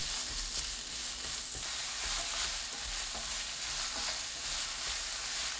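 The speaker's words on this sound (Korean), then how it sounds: "팬이 달궈지면 식용유 2큰술, 당근 넣고" Carrots stir-frying in two spoonfuls of cooking oil in a hot pan, a dense, even hiss of frying that holds steady throughout with faint stirring underneath.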